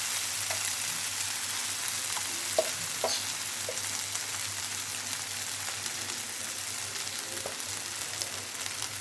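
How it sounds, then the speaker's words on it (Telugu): Brinjal (eggplant) pieces fry in a pan, giving a steady soft sizzle throughout with a few faint clicks as chili powder is sprinkled over them, no voices present. "ఇప్పుడు మనం ఫ్రై కారం చల్లేసుకుందాం"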